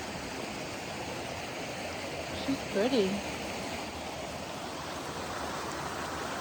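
A waterfall in the woods pours as a steady, broad rushing roar, constant and fairly close, with a brief spoken remark partway through.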